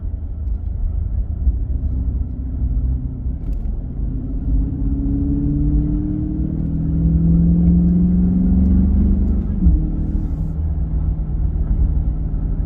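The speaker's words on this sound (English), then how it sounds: "Just the exhaust just sound loud." A loud exhaust on a 2023 Chrysler 300C with a 6.4-liter HEMI V8 drones and rises as the engine revs up, a steady deep rumble heard from inside or near the moving car.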